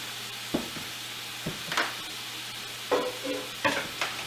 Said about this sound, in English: once the bottom's cooked, we'll keep turning them with our spatula and keep them in meatball shapes.